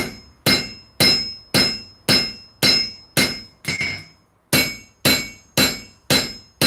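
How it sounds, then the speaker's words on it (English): A hammer strikes a Bowie knife blade on an anvil in a steady series of about a dozen sharp, ringing metallic blows, loud and close, with a short pause partway through. "So what I'm gonna do here is forge that blade out."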